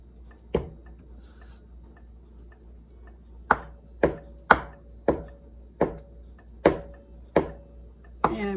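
Knife chopping through two quartered, sliced boiled eggs on a cutting board, a single cut then a run of eight sharp, evenly spaced thuds, close and clear with no talk.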